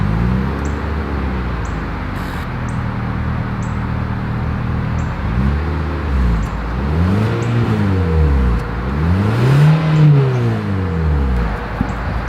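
Exhaust note of a 2023 Mitsubishi Outlander, steady idle rising into several rev blips that swell and fall away, recorded close up with no talking.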